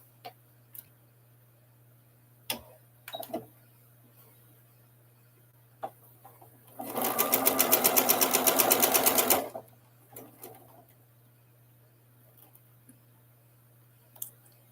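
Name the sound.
sewing machine stitching fabric seams together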